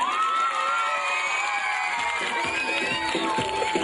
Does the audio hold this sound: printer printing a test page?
no